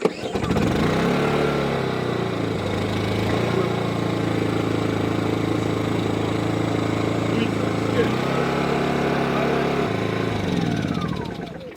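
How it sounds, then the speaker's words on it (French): A lawn mower's small engine runs steadily and loudly close by, a continuous mechanical drone with a slight shift in pitch near the end. "Papa sort la tondeuse. Papa va tondre le gazon."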